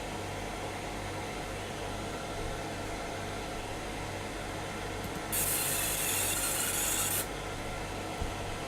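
A fiber laser marks a metal part, giving a bright, hissing buzz for about two seconds over a steady mechanical hum and fan drone, then stopping.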